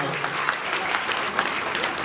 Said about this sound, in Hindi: तो एक बार इनके नाम की जोरदार ताली बजाओ